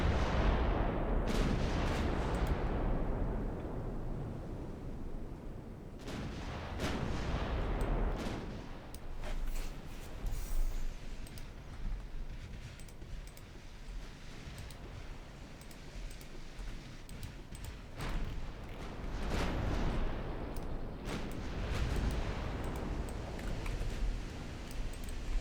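Naval artillery broadsides boom out in the Ultimate Admiral Dreadnoughts naval combat game, with several loud heavy blasts and long rumbling decays spread across about twenty-five seconds and no talk.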